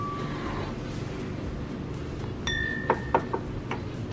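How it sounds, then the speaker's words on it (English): Crystal glassware tapped by hand, giving a few bright, ringing tings with sustained tones, close and clear over faint background noise. "It tings. It rings. Yeah, these are crystal."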